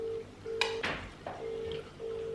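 A mobile phone rings nearby with a steady electronic tone sounding in repeated bursts separated by short gaps, mixed with a few clattering knocks and handling noises in a room.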